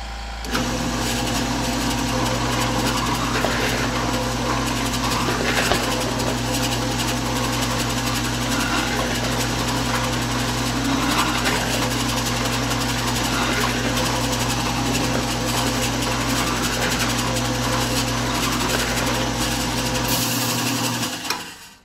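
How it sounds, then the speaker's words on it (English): A drill press drilling holes in holster material drones continuously for a long stretch, a steady hum with rapid mechanical rattling, stopping abruptly near the end. "we're going to go ahead and use the drill press to drill these holes"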